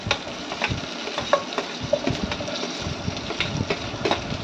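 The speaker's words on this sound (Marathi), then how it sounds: "तो जे चिरलेलं टोमॅटो बटाटा होता ते यामध्ये टाकून दिलं आणि छान परतून घेतलं" Chopped tomatoes and potatoes sautéing in a pan for moong dal khichdi, a steady close sizzle with scattered crackles and light stirring scrapes throughout.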